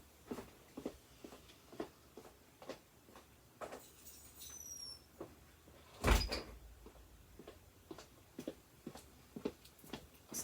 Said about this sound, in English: let me close the door, hold on